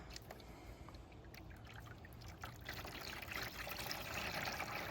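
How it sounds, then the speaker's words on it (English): Sugar water being poured into the basins of a beehive feeder, a soft continuous trickle and splash that grows slightly louder, faint and close with no talk. "fill these basins up with sugar water, making sure I drizzle a little bit down inside"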